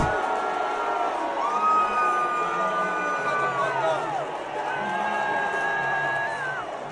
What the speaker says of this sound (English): will never get sick of hearing Donald Trump get booed by a group of people